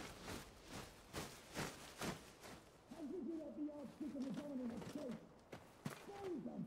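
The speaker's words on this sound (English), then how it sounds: "Garlean owl." A Garlean owl in the Final Fantasy 16 video game gives soft repeated hoots and coos, faint and a little distant, amid quiet rhythmic background sounds.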